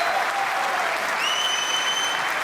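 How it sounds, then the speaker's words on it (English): A snooker crowd applauding a shot, sustained warm clapping from a packed arena, loud and even from start to finish with a faint whistle rising over it. "Well, the crowd certainly enjoyed that."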